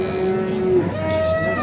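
A cow moos loudly and close by at a livestock market in Mastchoh, one drawn-out low call that rises in pitch partway through.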